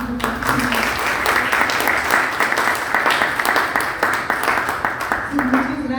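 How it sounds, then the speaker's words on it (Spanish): Sustained applause from an audience at a public forum on missing persons, steady and dense throughout, with a voice briefly audible near the start and end. "Si les pido un aplauso, por favor."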